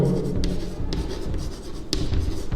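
Pen scratching across paper in short, continuous strokes with a few brief taps between them, close and fairly loud, as a teacher writes out a maths problem; no talking.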